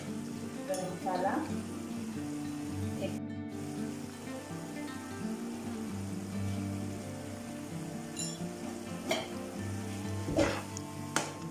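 Lahori keema sizzles steadily in a pan while being stirred, a soft continuous frying hiss with occasional clinks of a spoon against the metal, fairly quiet and close, with a faint hum underneath.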